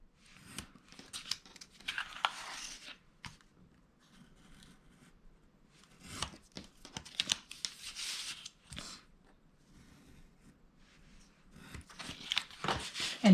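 Scissors snip notches into paper edges to miter the corners of a handmade thank-you gift, with bursts of cutting and paper rustling at close range separated by quiet pauses.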